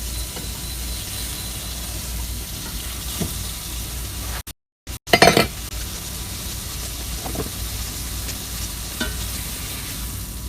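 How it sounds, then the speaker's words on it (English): A ribeye steak sizzles loudly in a pan as butter is spooned over it. The hiss is continuous, with brief spitting bursts, one short dropout about midway, and a louder flare right after it. "start spooning some butter over it"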